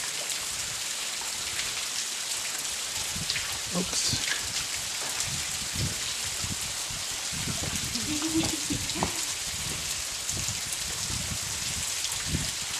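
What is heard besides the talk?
Cathedral Rock waterfall flowing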